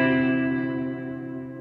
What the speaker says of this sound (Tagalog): Parang Fender Deluxe Reverb yata ito.